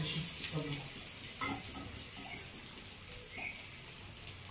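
Vegetables roast in hot oil in a home kitchen pan, giving a steady sizzle with scraping stirs throughout, fairly close and moderately loud.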